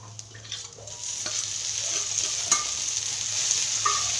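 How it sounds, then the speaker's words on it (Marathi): Okra goes into a pan of fried spice masala for a crisp bhindi fry and is stir-fried, making a soft, steady sizzle with occasional light scrapes and clicks. "आता आपला मसाला छान परतलाय आपण त्यामध्ये भेंडी सोडू आता"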